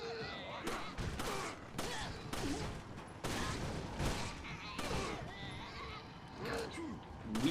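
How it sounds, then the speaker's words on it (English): Gunfire in the video game Resident Evil 4, with a series of heavy, booming shotgun blasts spaced a second or so apart, fairly loud, with a voice speaking between some shots. "Those are shotgun."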